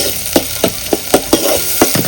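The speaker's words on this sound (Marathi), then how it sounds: "ते आपण आता फोडणी देऊया." Spices hit hot oil in a pan on a village wood-fired stove for a country chicken curry, a steady loud sizzle with repeated scraping stirs at an even rhythm, close and without talk.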